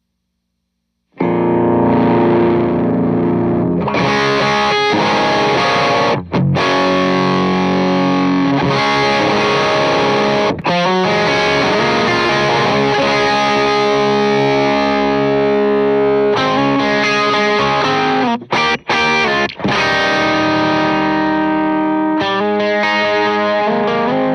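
Electric guitar through a Supro-style preamp drive pedal with gain cranked, heavily overdriven with a thick, fuzzy distorted tone, sustained chords and riffs ringing out, loud and continuous with brief pauses.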